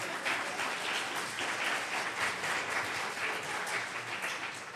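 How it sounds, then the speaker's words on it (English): A crowd at a comic convention panel for a Gilmore Girls reunion applauds in a steady, dense roar of many hands, soft but sustained for several seconds without any speech over it. "Give yourselves a round of applause."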